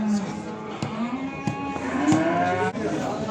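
Calves at a cattle market moo in a long rising bellow, near and loud, with clicks and crowd noise around and people talking in the background.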